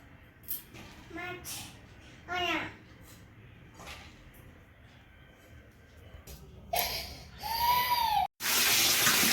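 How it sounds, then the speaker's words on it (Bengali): Cut loitta fish being washed with water, intermittent splashing and running water in bursts with a louder gush near the end, and a voice heard in between. "মাছগুলো কাটা হয়ে গেছে ধুয়ে নিচ্ছি"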